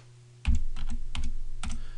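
A short burst of typing on a computer keyboard while entering a file name, about four quick clusters of close, crisp key clicks over a faint steady hum.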